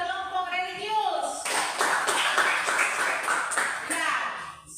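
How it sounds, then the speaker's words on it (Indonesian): A classroom group claps after a presentation, a burst of brisk clapping following a voice, fairly close and steady before fading. "Tepuk tangan untuk kelompok religius"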